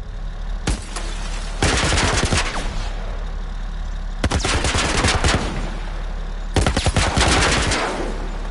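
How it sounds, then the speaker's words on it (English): A military turret machine gun in The Last of Us Part I rattles off three long, loud bursts of rapid automatic fire, separated by short pauses, over a low steady drone. "military turret."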